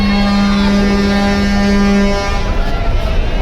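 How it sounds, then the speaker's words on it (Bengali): At Barishal, the passenger launch Parabat 18 sounds a long, loud steady horn blast over engine rumble, the tone cutting off partway while the low churning continues. "পারাবত আঠারো লঞ্চ দুটি লঞ্চ কিন্তু একসাথেই কিন্তু ব্যাক গিয়ার দিল"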